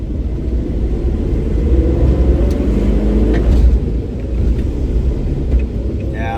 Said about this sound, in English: It's amazing how this exhaust system makes the 273 sound like a slant 6.